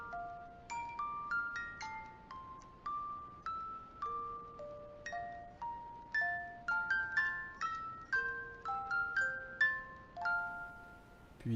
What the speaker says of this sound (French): Puis ce son d'une boîte à musique.